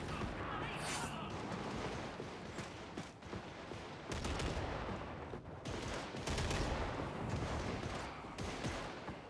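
Dense, sustained video game gunfire rattles nearly nonstop, with rapid automatic bursts and booming impacts layered into a constant, loud battlefield roar.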